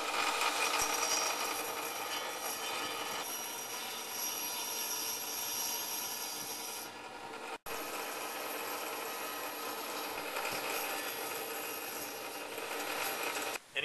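A power saw cuts the first cork floor piece, marked with a notch around floor-radiator plumbing, as a loud continuous whine that dips briefly partway through and then resumes, with no voices.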